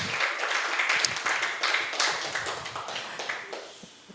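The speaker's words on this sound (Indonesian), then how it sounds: "tepuk tangan dulu buat Koci" Audience at an event clapping for a guest, a lively burst of many hands that stays busy and close before slowly thinning out toward the end.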